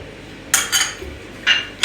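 Metal utensils clink against a bowl as vinegar, soy sauce and chili sauce are mixed for a chicken marinade, a few separate bright clinks and scrapes close by.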